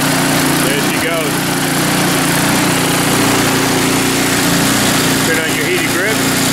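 An Ariens Deluxe 30-inch snow blower engine runs in a blizzard with a loud, continuous buzzing drone at a steady pitch.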